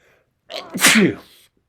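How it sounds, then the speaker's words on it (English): A single sharp human sneeze, close and loud, with a quick intake of breath before the burst and quiet all around it. "I'm about to sneeze."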